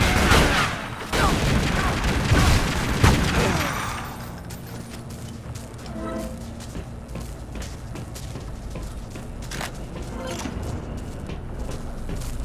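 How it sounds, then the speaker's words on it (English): A grenade blast and gunfire go off in the Tomb Raider: Legend video game, with a dense loud burst of explosive rumble over the first few seconds, then a steadier rattle of shots and clatter continuing underneath. "Okay, fine. Have a grenade."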